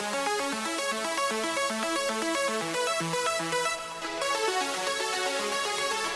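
Layered synthesizer arpeggio patches play dense, steady stepping note patterns, several plucky, detuned voices stacked together at a constant loud level, with a brief dip near the end before the pattern resumes.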